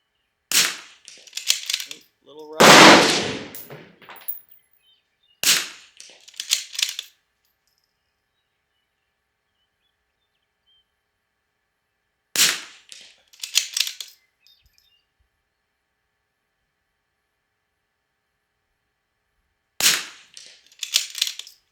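Bergara B14R rifle fired at a target, five sharp separate shots spaced several seconds apart, each loud and close with a short ringing tail over an otherwise silent background.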